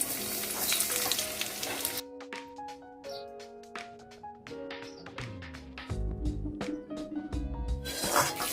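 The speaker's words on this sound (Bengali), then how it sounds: "আজকে একটু পেঁয়াজ ফোড়ন দিলাম" Onion tempering sizzles loudly in hot oil at the start and again at the end, with a quieter stretch of clear melodic tones in between and no voices.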